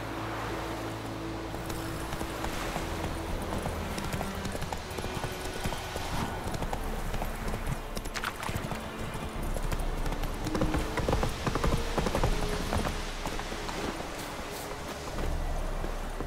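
Roach, the horse in The Witcher 3, gallops with a steady, continuous clip-clop of hooves heard close up throughout, layered over a low ambient hum and wind.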